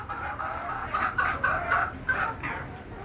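Native laying hens cluck and cackle close by in repeated short bursts, fairly loud against a low steady background hum, with no talking.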